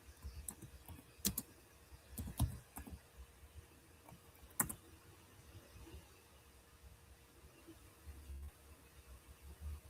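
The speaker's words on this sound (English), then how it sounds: "I know I hear your keyboard." A computer keyboard is typed on in scattered bursts of soft, close clicks with pauses between them, over a faint steady background hum.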